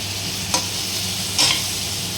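Vegetables and green peas stirred in a pan, a steady soft frying hiss with two brief scraping stirs of the spatula, no voices.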